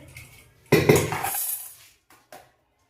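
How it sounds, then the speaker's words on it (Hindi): Metal pots and a pressure cooker clattering as they are set down on a home kitchen stove, a loud clanking burst followed by fading ringing and a couple of softer knocks. "तो चलो मैं कुकर लगा देती हूँ फटाफट से"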